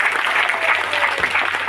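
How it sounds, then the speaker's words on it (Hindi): A crowd at a community political gathering in Delhi claps loudly and densely in a continuous wash of applause, close and steady throughout. "तो सब लोग अपने लिए तालियां बजाइए तेज।"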